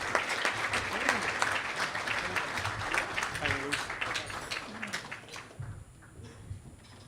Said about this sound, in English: can you please give a round of applause for Aydin Çayır